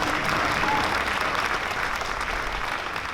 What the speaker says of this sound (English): please keep that applause going for Peri